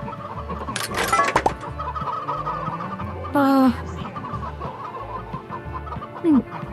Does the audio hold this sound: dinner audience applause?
no